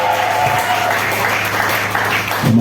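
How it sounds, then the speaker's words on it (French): A church congregation applauds in praise of the Lord, a dense, steady wash of clapping that carries on for the whole stretch with a few voices mixed in. "acclamons pour le Seigneur."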